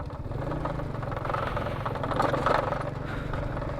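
A worn-out, badly maintained motorcycle engine idles nearby, a loud steady rough putter with rattling clatter and a slight surge in revs partway through, no speech over it.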